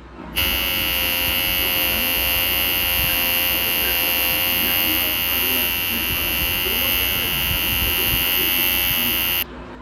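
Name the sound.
electric trimmer buzzing while trimming eyebrows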